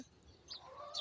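Soft, close clucking from hens on a small rooftop farm over quiet background noise, a few short calls in about a second.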